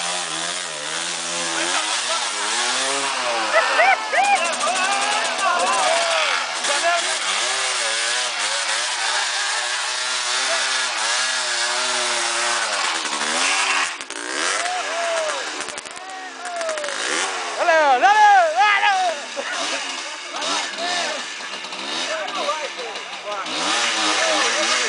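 A trail motorcycle engine revs hard and whines while crossing a river, the pitch rising and falling in long pushes, close and loud, with people shouting and talking over it.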